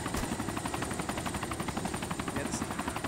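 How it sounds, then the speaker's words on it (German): A helicopter hovers in the survival video game DayZ, a continuous rapid rotor chop with a steady pulsing beat, fairly loud and unbroken throughout. "Das ist auch, glaube ich, der Heli."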